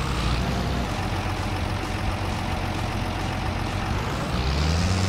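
Tractor engine in the farming game Farming Simulator 22, a steady loud low rumbling drone running continuously throughout with no talk.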